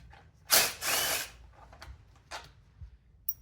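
A hand ratchet works 7mm bolts off the cover of an SSR XF250 dirt bike, giving a couple of loud, close clicking bursts followed by quieter scattered clicks and small metallic taps.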